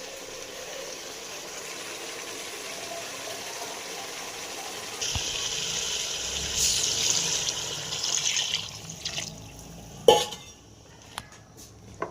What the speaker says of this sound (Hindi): अब हमने इसमें पानी डालना है शोरबे के लिए